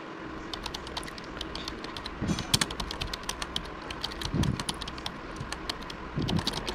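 An Aadhaar card number is typed on a computer keyboard, with quick, irregular key clicks close by and a few heavier key thumps standing out, no voices.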